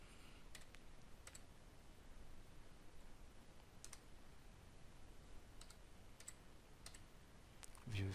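Fingers tap out text on a computer keyboard in a quiet room, a sparse scattering of soft, light key clicks spread irregularly over several seconds, heard alone at low level.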